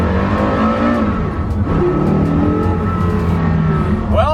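A Porsche Carrera GT engine revs loudly from inside the car, its rising and falling harmonic whine surging continuously, with a brief tire squeal near the end.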